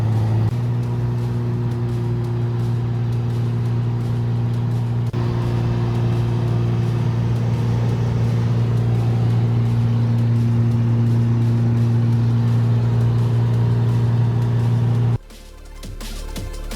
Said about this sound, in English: The car's pretty loud